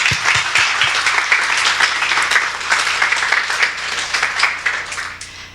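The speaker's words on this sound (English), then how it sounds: "A big round of applause for all of us." Steady applause from a crowd, many hands clapping continuously with no pauses, fairly loud and close throughout.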